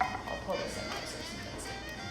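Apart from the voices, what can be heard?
No everyday noises stand out.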